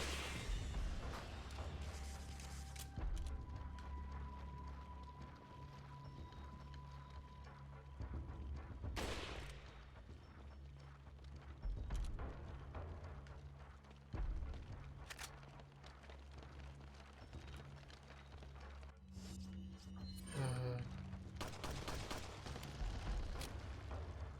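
Gunfire in Resident Evil 4: Separate Ways comes as scattered sharp shots and heavier blasts, spaced several seconds apart over a low rumbling game ambience. One short cluster of rapid clicks sits near the end.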